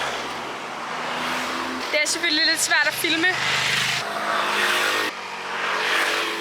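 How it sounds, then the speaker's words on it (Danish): Cars and motorcycles rush past on a winding mountain road on Cap de Formentor, Mallorca, engines swelling loud and near, while a cyclist talks over the passing traffic. "der kommer mange biler hele tiden, og motorcykler og andre cykler"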